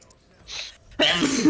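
A single abrupt sneeze bursts out close to the mic after a short breathy intake, loud and explosive, with no voice talking over it.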